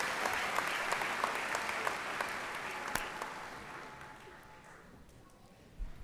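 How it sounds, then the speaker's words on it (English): Commencement audience applauds in a large hall, a dense, steady wash of clapping that slowly fades toward the end, with a few sharper claps standing out. "Give a round of applause to the Morehouse College."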